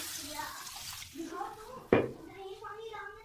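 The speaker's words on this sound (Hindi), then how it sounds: "अब मैं इसमें जो है वो पानी ऐड कर रहा हूँ। ये देखें, मैंने इसमें पानी ऐड कर दिया।" Water from soaked lentils is poured into a pot of daal on a low flame, giving a splashing, gurgling pour with one sharp splash partway through, while someone talks over it.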